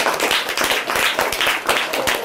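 Audience clapping at a literary prose evening, a short burst of close, fairly rhythmic claps from a small group, loud and continuous through the clip.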